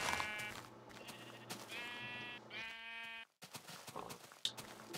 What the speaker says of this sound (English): Oh goody, more sheeps.